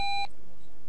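A single short electronic phone beep as the call list is cleared in a point-and-click game, a clear tone lasting about a quarter second, then quiet.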